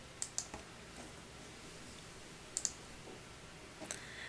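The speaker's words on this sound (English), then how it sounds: "And then go ahead and click Continue" Computer mouse clicks, sharp and light, come in small pairs and clusters spread over a few seconds against a quiet room hum, with no talking.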